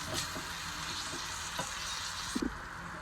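Chana dal roasts in a pan with a steady, moderately loud frying hiss, faint scraping stirs here and there, and a couple of quick knocks near the end, no speech.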